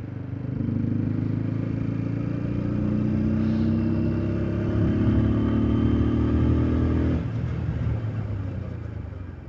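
A TVS 200 motorcycle engine revs loud and steady during a test ride, then drops off sharply near the end as the bike brakes hard on its ABS-equipped front wheel.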